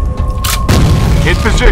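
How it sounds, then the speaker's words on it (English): Grenade blast in the F.E.A.R. Combat multiplayer shooter, a loud close boom with crackling debris that follows a short burst of noise, with game voice radio chatter mixed over it. "Grenade out. Fire in the hole. Fire in the hole."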